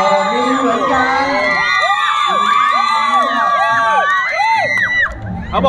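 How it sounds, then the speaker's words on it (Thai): Supporters at an international-rules boxing match in Thailand roar loudly and continuously. Many overlapping whoops and shouted calls rise and fall in a dense, close crowd din that lasts the whole time. "ขอเสียงของเชียร์โลนสุพันหน่อยครับ"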